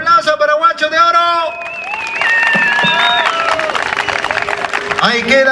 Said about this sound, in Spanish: ¿Dónde están los aplausos para Guacho de Oro?